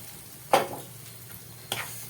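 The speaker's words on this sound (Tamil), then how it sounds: "முந்திரி பாதாமை நெய்யில் பொன்னிறமாக பொரிச்சு வச்சுருக்கிறத ஊற்றிக்கலாம்" Cashews and almonds fried golden in ghee hit Kashi halwa with two quick, sharp sizzles, the second softer, over a faint hiss in a quiet kitchen.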